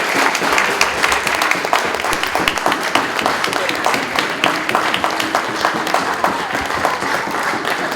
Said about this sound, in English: Another round of applause to Buttons family